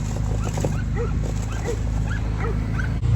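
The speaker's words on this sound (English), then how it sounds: "The dogs bark." Several dogs barking and yipping outdoors in cold weather, a run of short repeated barks with whimpering yips between them, fairly close and loud.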